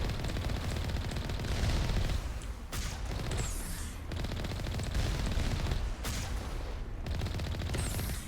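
Sustained automatic gunfire from Alliance turrets in Mass Effect 1, dense rapid bursts running almost continuously with brief gaps, loud and close throughout.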